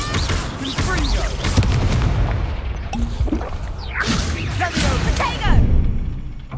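Confringo fire spell cast in the video game Hogwarts Legacy, heard as repeated loud booming blasts and crackling impacts amid busy combat effects, continuous and dense throughout.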